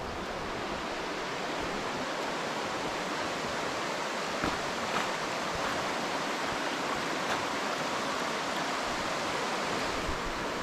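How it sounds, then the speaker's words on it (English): Hazel Creek flowing in a backcountry watershed, a steady, full rush of water close by that holds even throughout, with no voices. "we have just come up on the fabled Hazel Creek"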